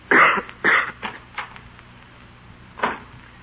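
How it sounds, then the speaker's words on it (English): A man's coughs and throat clearing in an old-time radio drama, several short harsh bursts close together at first, then a pause and one more cough near the end, heard alone without talk. "I'm going to get you something for that cough."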